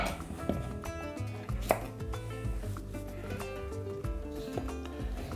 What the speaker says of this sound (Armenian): Վերցրել եմ 4 թարմ մանրավարունգ։ Կտրում ենք ծայրերը։